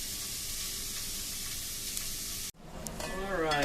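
Tomatoes, coconut milk and spices hit a hot pan with a loud, steady sizzle that cuts off abruptly, then resumes as a softer bubbling hiss with faint rising tones.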